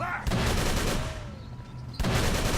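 Gunshots in the video game Call of Cthulhu: loud, dense firing that fills the clip, broken by a short dip before another heavy blast near the end.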